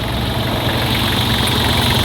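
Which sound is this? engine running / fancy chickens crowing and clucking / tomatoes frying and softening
engine running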